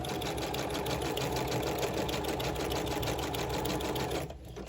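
A sewing machine stitches a zigzag on a handmade December advent tag, a steady close whirring hum that runs without pause and cuts off shortly before the end.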